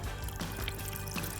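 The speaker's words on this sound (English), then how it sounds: "We're letting all that water out." Coconut water drains and trickles out of a freshly opened coconut during food prep, a soft steady liquid pour heard close up with no talking.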